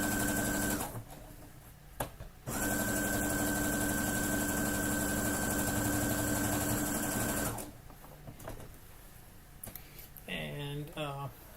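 A home sewing machine back stitches a drawstring bag, running in a long steady whir, pausing briefly, then buzzing on before stopping, while someone talks over it.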